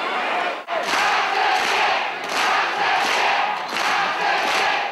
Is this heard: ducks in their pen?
no